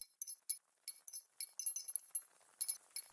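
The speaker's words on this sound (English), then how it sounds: "It sounds like the clinking of metal" Light metallic clinks and jingles in irregular bursts, close and fairly quiet, with short silences between them and no voices.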